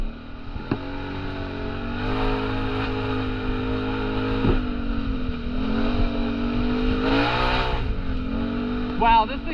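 Engine of a 2022 Can-Am Renegade 650 XMR ATV on new tires, accelerating with steady harmonic drone that rises and swells through several pulls, close and loud, with wind noise and brief talk over it.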